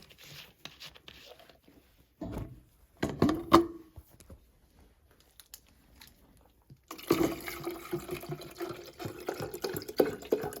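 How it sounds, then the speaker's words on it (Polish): A vitamin and mineral drink for rabbits is poured into a drinker inside a building, with a short splashing trickle early on, a pause, then a longer steady pour running to the end. "Tutaj przygotowałem taką orężadę, czyli to jest witaminy i minerały dla królików. Więc zaraz tutaj będę nalewał."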